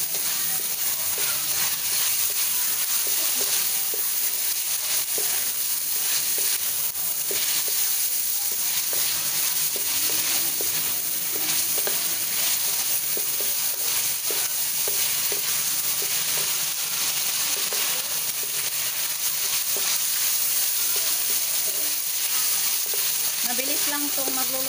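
Pancit noodles with marinated chicken hiss and sizzle steadily in a hot pan while being stir-fried. The bright, continuous frying sound carries faint scraping and tossing underneath.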